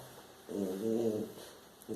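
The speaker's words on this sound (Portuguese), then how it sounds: "Tá escutando o ronco dele?" A soft, low snore from a dog, one slow breath rising and fading, close by in a quiet room.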